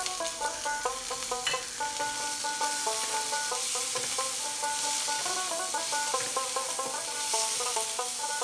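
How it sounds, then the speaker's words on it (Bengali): Chopped tomato, ginger and onion fry in hot oil with an even, dense sizzle and bursts of stirring, continuous and close, with gentle music playing underneath. "টমেটো কুচি দিলাম।"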